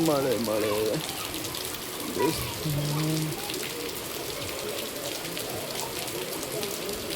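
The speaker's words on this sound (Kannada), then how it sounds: "ಫುಲ್ಲು ಮಳೆ, ಜೋರ್ ಮಳೆ" Dense, steady hiss of heavy Deepavali rain pouring down nearby, with people talking over it at the start.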